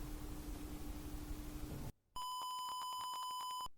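After a stretch of hiss and a brief silence, a steady electronic buzzer tone triggered by a wrong passcode sounds continuously for about a second and a half.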